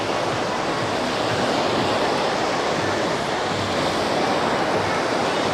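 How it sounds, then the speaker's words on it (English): Forceful waves churn steadily in a waterpark wave pool in Sevierville, Tennessee, reaching about six feet high, a loud continuous wash of surf with no pauses and no voices. "lots of quite forceful waves that do go up to about 6 foot high"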